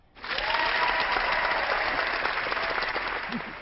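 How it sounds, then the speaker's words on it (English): A canned round-of-applause sound effect played during a congressional open debate: a smooth, even burst of crowd clapping that swells in quickly, holds steady, then tapers off at the end. "give yourself a round of applause"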